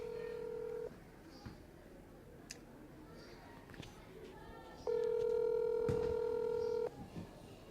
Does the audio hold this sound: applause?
no